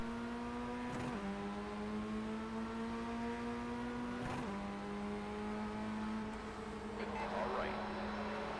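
Race cars launching off the start line in the iRacing sim, a dense pack of engines droning at steady high pitch with gear-shift dips and rising revs, loud and continuous throughout.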